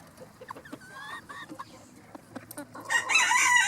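A mottled-feathered Yokohama bantam cross hen makes a series of short, soft clucks and murmurs nearby. A louder, harsher burst of fowl calling follows at the end.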